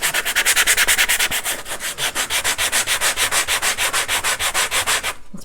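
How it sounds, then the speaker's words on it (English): Close, rhythmic scratchy strokes of sandpaper rubbing back and forth to sand glitter off an object, steady and brisk, with no talking. "So I'm just going to start by sanding it."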